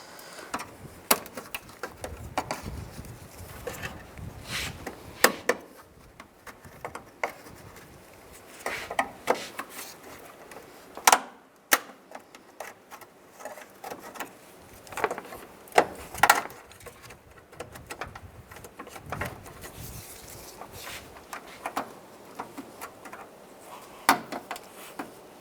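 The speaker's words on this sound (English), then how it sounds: "Now take these push pins out, just use the trim tool" A plastic trim tool prying push pin clips from the front bumper of a 2005-15 Nissan Xterra makes scattered sharp clicks, snaps and light taps, close and irregular, with quiet stretches between.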